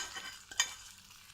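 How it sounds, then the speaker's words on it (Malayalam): A short, quiet sizzle as hot oil with fried mustard seeds hits fish curry, with a sharp hissing burst in the middle that quickly fades. "കടുക് വറുത്തത് മീൻകറിയിലേക്കിടാം"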